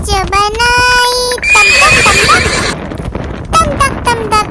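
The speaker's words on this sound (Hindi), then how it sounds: "दौड़ा दौड़ा दौड़ा घोड़ा दुम दबा के दौड़ा" Horse sounds in an animated Hindi children's song: loud, high whinnies and neighs near the start and end, with busy clip-clop hooves and music in the middle.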